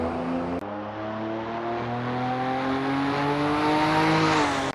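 A race car engine screams at high revs, pitch climbing steadily as it accelerates hard down a straight, loud and close with no talking.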